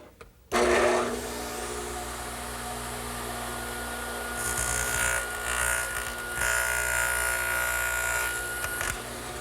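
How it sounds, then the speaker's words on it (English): A radial arm saw cuts a square corner in wood, starting abruptly with a loud whine that holds steady for several seconds with slight swells as the blade passes through the board. "if I use the radial arm now to make a pass right here, I'll get a nice square corner"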